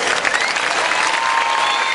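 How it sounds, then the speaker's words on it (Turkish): Festival audience applause outdoors, a dense, loud and sustained clapping crowd with faint voices and a thin tonal whine running underneath. "Şimdi hanımlar beyler sizlerden alkış alabilir miyiz?"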